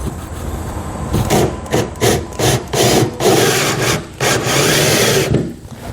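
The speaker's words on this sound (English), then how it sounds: "Now we can begin slowly drilling these out." Drill boring holes through a 2020 Chevrolet Silverado frame rail while fitting a Curt custom fifth wheel kit: loud grinding, rasping bursts that pulse on and off in short repeated pushes, close up, no voices.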